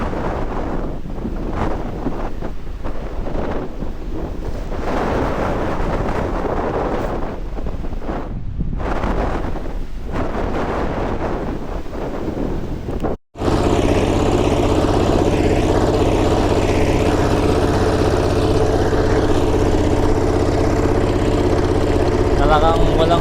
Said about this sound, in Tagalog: Hindi pa tumama sa amin yung bagyo mga kapangil, pero lakas na yung hangin.